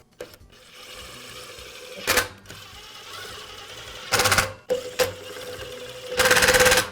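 A power drill drives screws to fasten the motor housing on a DeWALT miter saw under repair, three short whirring bursts separated by pauses, close and fairly loud against a quiet room.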